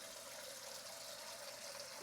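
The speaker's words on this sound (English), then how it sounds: "filling it up with room temperature water, cold water" Room-temperature tap water runs steadily into a pot for hard-boiled eggs, a constant close rushing with a faint tonal ring and no talking.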